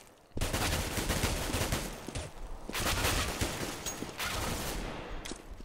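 Dense automatic-weapon gunfire in the game CS:GO on the de_inferno map, two sustained loud bursts of rapid shots separated by a brief lull, with no talking.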